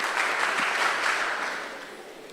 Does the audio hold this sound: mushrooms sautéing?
no